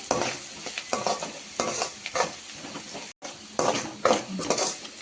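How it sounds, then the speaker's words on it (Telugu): Carrot, beans and capsicum fry in a pan with a loud, close sizzle, broken by rhythmic stirring scrapes and light utensil clinks, plus one brief cut to silence. "ఇలా క్యారెట్, బీన్స్, క్యాప్సికమ్ ఫ్రై చేసేసుకోవాలండి."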